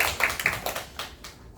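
Brief scattered clapping from a small audience at a Korean science high school information session, a handful of uneven claps that thin out over about a second and a half, fairly close and without speech.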